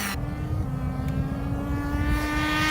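Nitro engine of an Exceed Nitro Rally Monster RC truck runs steadily at high revs, a continuous buzzing drone with a sustained whine throughout, close and loud, with no talking.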